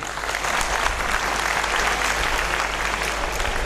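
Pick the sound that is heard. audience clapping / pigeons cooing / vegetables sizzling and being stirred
audience clapping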